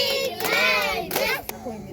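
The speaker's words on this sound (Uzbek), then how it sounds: "Bitta qarsak bo'lsin, nima bo'lsa." A small group clapping in a home gathering, a short burst of applause heard under a voice, with children's voices mixed in, close and lively.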